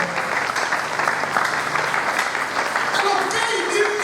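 A church congregation at a French-language worship service breaks into sustained cheering and applause, a steady dense wash of clapping and voices that holds for several seconds, with some talk mixed in.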